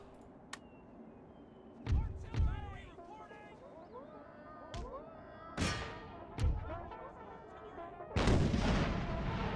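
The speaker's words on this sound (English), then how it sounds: "our first cannon volley kills their general" Cannon volleys from an Empire: Total War battle in the Brothers vs. Brothers mod, a series of loud booming blasts spaced unevenly over several seconds, some close and heavy, others lighter, ending in a sustained rumbling barrage.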